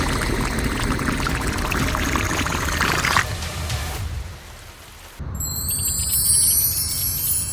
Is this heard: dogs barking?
no